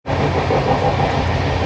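The Saraighat Express with LHB coaches runs on rails, heard from inside a 2AC sleeper coach as a steady, loud rumble with faint wheel clatter and no talking.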